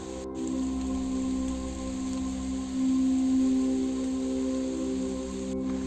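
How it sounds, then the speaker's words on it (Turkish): Steady, soft hiss of rain falling in Belgrad Forest, with a constant low hum underneath and no talking. "Bir de yağmur yağıyor mis gibi."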